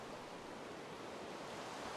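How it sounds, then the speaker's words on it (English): Heavy rain pouring down in Minecraft, a steady dense hiss that stays even and continuous for the whole stretch with no voices over it. "So it's pouring it down outside."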